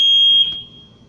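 A fire alarm in an extended-stay hotel sounds loud and close as one steady high electronic tone, then cuts off sharply, leaving a faint rumble of the room behind it.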